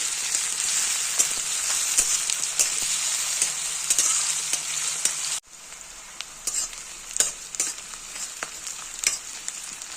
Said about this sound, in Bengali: পেঁয়াজটা হালকা একটু ভাজা করে নেব।